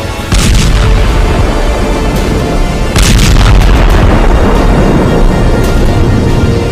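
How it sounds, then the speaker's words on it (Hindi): Hezbollah rockets explode in Haifa, Israel: a loud initial boom followed by a second blast about three seconds later, each leaving a long heavy rumble that fills the whole stretch without voices. "हिजबुल्लाह के रॉकेट धमाके हाइफा में हाहाकार मचा रहे हैं"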